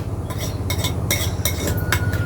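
A cucumber apple salad stirred in a bowl, with spaced clinks and scrapes of a utensil against the dish, a handful of bright knocks in an irregular rhythm, close and fairly quiet.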